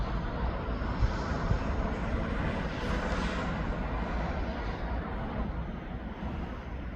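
Antonov An-124 aircraft engines departing East Midlands Airport, a steady, loud broadband roar that holds constant throughout with no break and no voices.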